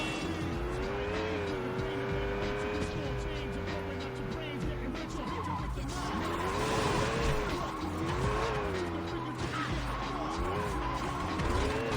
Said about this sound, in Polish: całkiem nieźle nam się prowadzi samochód